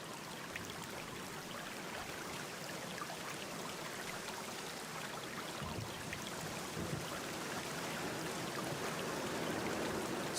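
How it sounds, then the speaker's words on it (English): Steady rain falls in a game scene from The Black Mirror I, a constant even hiss of drops and trickling water that holds at the same level throughout, with nobody speaking. "This rain is making me sleepy."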